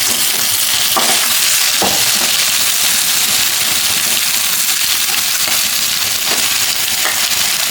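Rabbit meat pieces fry in a pan, village style, with a loud, continuous close sizzle and occasional stirring scrapes throughout.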